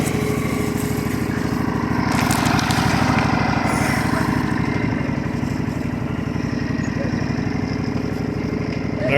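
An engine left idling runs with a steady, even low rumble and fast pulsing chug, close and unchanging throughout, with faint background noise over it.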